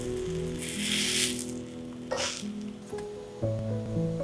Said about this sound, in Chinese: 再煎第2片。